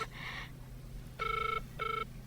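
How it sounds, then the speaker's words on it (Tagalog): A cellphone ringtone plays as a short electronic ringing burst, then pauses and returns in two quicker warbling rings, clear over a low indoor hum with no talking. "Aday ta, agriring ti cellphone na."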